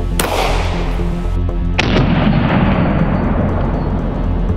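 A 9 mm handgun is fired at a hardened brass padlock, giving a sharp loud gunshot crack early on and then a second report with a long reverberant decay, with no talk over it.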